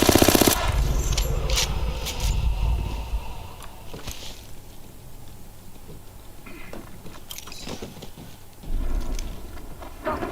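Gunfire in a first-person shooter video game, bursts of rapid shots and sharp cracks at the start and near the end, with quieter stretches of game noise between.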